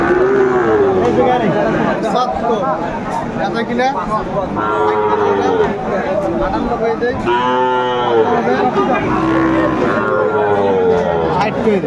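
Sahiwal bull calves at a Comilla cattle market moo loudly again and again in long, drawn-out calls, while a crowd chatters and people talk around them.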